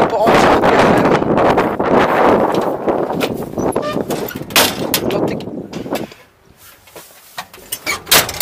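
Gusty wind buffets the microphone out on a meadow, a loud, rumbling rush that swells and fades, with people talking over it and the wind easing near the end.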